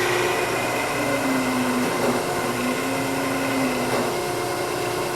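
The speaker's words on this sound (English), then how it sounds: "gonna slow the lathe down" A wood lathe spins a small ring or bracelet blank, a steady loud whirring drone with a tonal whine that dips slightly in pitch as the machine is slowed down.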